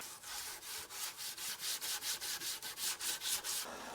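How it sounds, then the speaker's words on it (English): Rhythmic back-and-forth rubbing strips the sticky rubberized soft-touch coating from BMW E46 330ci interior trim, about a dozen steady close strokes with a dry scrubbing texture and no talk. "I can even rub this off now"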